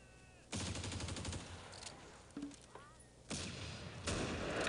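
Sniper and rifle fire in the Close Combat strategy game set on Crete, sharp bursts of gunshots and crackling fire coming in loud waves with brief quieter gaps between them.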